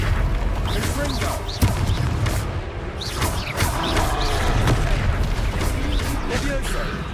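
Confringo fire-blast spells explode during a Hogwarts Legacy boss fight, a continuous loud barrage of booming impacts and crackling magic effects layered with game music and voices speaking throughout.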